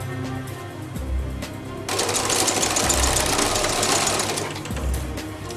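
Sewing machine top stitching the folded edge of a cap, a steady rapid needle chatter that starts partway in and runs loud and close with brief pauses.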